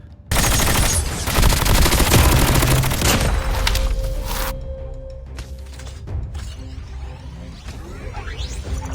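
Automatic gunfire in the Call of Duty Mobile battle royale, shot through a window: a loud sustained burst of rapid shots for several seconds, then fainter scattered booms and whooshes.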